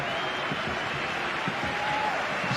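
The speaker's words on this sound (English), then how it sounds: "Bruce Kamau's performance being rewarded with applause from the stands" Spectators in the stands at a Melbourne City vs Sydney FC football match applaud a player being substituted, with steady distant clapping spread across the crowd and a commentator talking over it.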